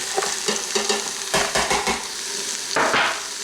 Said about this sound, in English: I'll let this saute for a minute.